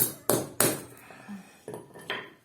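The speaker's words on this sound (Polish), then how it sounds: "spróbujemy młotem" Hammer blows strike copper rivets on a scrap water heater, two sharp metallic impacts close together followed by a few lighter clinks and knocks.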